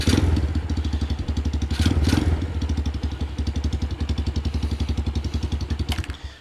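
A 2024 Vader 125 motorcycle with a new carburetor starting cold, its engine catching and settling into a loud, close, rapid chugging idle that pulses evenly throughout.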